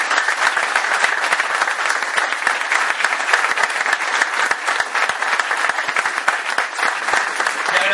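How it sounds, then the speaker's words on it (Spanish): A crowd at a memory, truth and justice gathering breaks into strong applause, a thick, even wash of clapping held at full loudness for several seconds. "agradecerle, fuerte aplauso"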